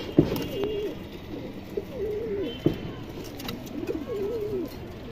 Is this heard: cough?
no